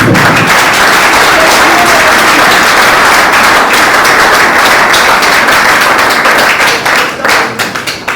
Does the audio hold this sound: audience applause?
yes